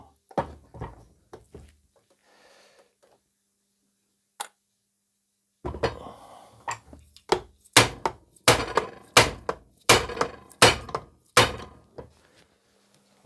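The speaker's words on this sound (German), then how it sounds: "Den Hammer nehmen müssen." Heavy metallic sledgehammer blows knock apart a Simson S50/M53 moped engine casing, a few scattered strikes and then a steady run of hard, close knocks with brief pauses.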